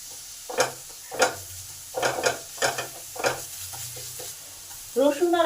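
Onions fry in a pan with garlic and ginger paste, a low sizzle punctuated by six or seven rhythmic scraping strokes of a spatula, then a short louder scrape at the end.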